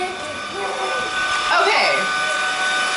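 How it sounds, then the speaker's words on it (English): A household vacuum cleaner runs indoors with a steady, fairly loud whirring hum that lasts the whole stretch, with people talking over it. "Are you scared of the vacuum?"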